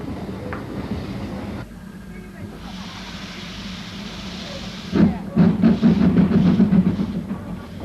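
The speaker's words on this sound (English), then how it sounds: "When the train is passed, the Severn Valley stations will close down for another day" Severn Valley Railway train passing: a soft hissing rush at first, then a louder rhythmic clatter of wheels building near the end, no voices.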